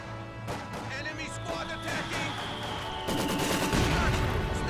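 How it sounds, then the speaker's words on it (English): Company of Heroes 2 battle with mortar fire landing on a Maxim machine gun position: repeated sharp explosive blasts and rattling gunfire in quick succession, dense and loud, with battlefield noise throughout. "Mortar firing on this Maxim."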